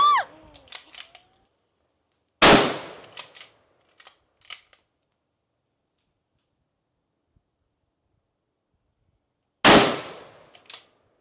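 Two sharp, loud gunshots from a Mauser 66 safari rifle fired standing ring out several seconds apart, each a sudden crack with a brief decaying tail, separated by quiet and small handling clicks.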